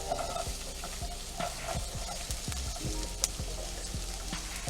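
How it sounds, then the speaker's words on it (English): Onions dropped into hot oil in a pan to soften for a country fried steak dish, sizzling steadily and close with a regular series of stirring scrapes and soft taps beneath the hiss. "let's add our onions."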